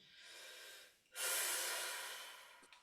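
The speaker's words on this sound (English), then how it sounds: "really focused on breathing out through pursed lips" Slow, steady breathing out through pursed lips during a breathing exercise class, a soft airy hiss that swells after a brief pause and fades gradually, close and alone with no talk.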